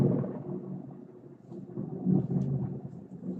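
A low, continuous rolling rumble of thunder from a nearby storm, swelling slightly toward the end, heard alone without voices.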